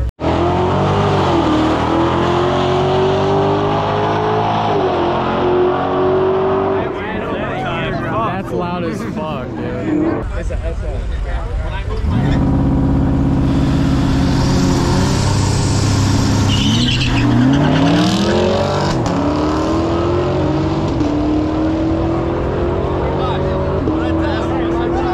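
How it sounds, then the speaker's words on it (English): A Ford Shelby GT500 accelerates in a drag race, engine roaring loud and close with rising pitch sweeps through gear changes over a long stretch, while people talk excitedly over it. "Get your GT500 to race."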